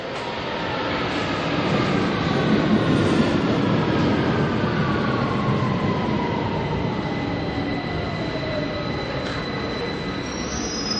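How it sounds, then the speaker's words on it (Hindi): A London Underground Bakerloo line train runs loud and steady, with a continuous rumbling roar and high metallic wheel squeal drawn out across the whole stretch, and no voices. "यहाँ से पैडिंगटन की ट्रेन मुझे लेनी पड़ेगी।"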